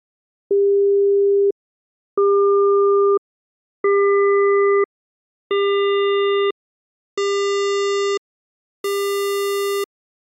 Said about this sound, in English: let's listen to how the timbre also starts out as a sine wave and gradually approaches a square wave.